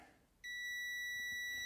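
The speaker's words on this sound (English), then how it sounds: "it should beep when, like that, when I got a connection" Continuity tester beeping on a connection during a Nintendo Switch Lite repair: one steady, bright electronic tone starts abruptly and holds without a break over quiet background.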